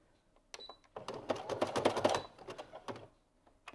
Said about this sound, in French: Le bruit que ça fait, c'est le papier qui est en dessous